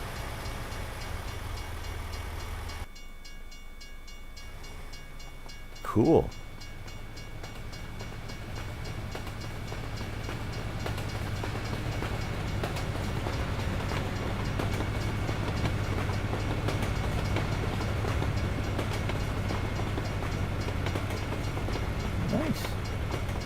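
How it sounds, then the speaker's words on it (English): Railroad train passing in American Truck Simulator, a low steady rumble of rolling wagons that swells and holds for many seconds, with a short loud clank early on and a brief spoken word over it. "I hear a railroad."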